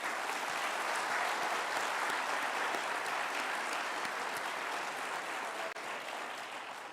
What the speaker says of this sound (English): Let's have a round of applause for all our award winners.